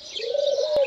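Pigeons coo and other birds call at dawn from a balcony in cool, cloudy weather with a light breeze. A steady, soft cooing sits under faint higher chirps, distant and calm, with a brief click near the end.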